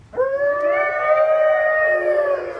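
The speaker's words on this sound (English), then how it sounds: "He flicked on the siren." A fire truck siren winds up quickly and holds a loud, steady wailing tone before easing off slightly, close and alone.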